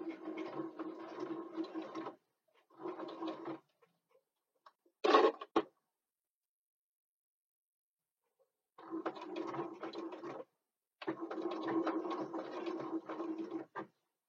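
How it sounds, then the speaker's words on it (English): A home sewing machine stitches fabric, including back stitching, in several bursts of steady motorized whirring with pauses between runs and a short sharp clack in the middle; close and fairly quiet, with no voices. "we'll take it to the machine, and we're going to sew"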